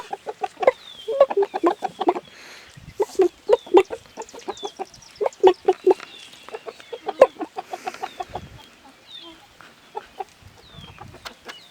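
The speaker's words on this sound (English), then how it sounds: "I love my chickens." Backyard chickens cluck in rapid, close bursts, with several birds calling over one another in a steady, lively stream.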